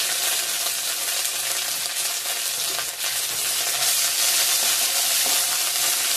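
Crushed ginger dropped into hot oil for tempering, already holding whole garam masala and garlic; a loud, dense, continuous sizzle and crackle fills the clip, close and steady with a brief dip midway.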